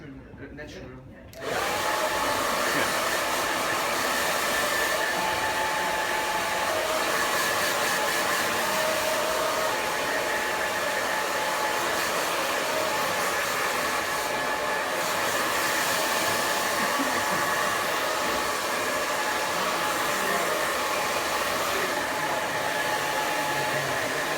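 A hair dryer blows steadily on hair after a grade 0.5 fade haircut, starting up after a brief moment and then holding a loud, continuous close-up whoosh for the rest of the clip, with no talking.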